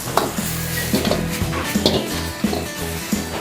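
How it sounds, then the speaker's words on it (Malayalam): Fried chicken being stirred into dragon chicken sauce in a pan: a steady sizzle under repeated scraping and clinking of a spoon against the metal, close and busy, with no talking. "ചിക്കനിട്ട് നമുക്ക് നല്ലോണം മിക്സ് ചെയ്യാം."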